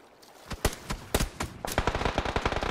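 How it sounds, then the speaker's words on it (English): Gunfire in the PUBG battle royale video game: a few spaced single shots followed by a rapid burst of automatic fire, sharp and loud, with no voices over it. "He's getting shot at."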